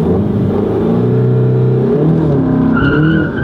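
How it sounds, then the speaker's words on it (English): A Volkswagen GTI MK7 with a new clutch launches and accelerates hard, its engine rising through a loud, close revving pull with a brief tire squeal and a shift near the end. "I can even launch the car a little bit better now"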